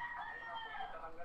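Roosters crow in the early morning, a faint drawn-out call that rises and falls over a little more than a second against a quiet background.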